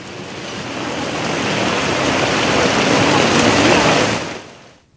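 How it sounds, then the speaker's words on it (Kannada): Rain pouring in Bengaluru in a loud, steady rush that swells slightly, then fades out at the end. "ಬೆಂಗಳೂರು ಸೇರಿದಂತೆ ಹಲವು ದಕ್ಷಿಣ ಒಳನಾಡು ಪ್ರದೇಶಗಳಲ್ಲಿ ಮಳೆ ಸುರಿತಾನೇ ಇದೆ"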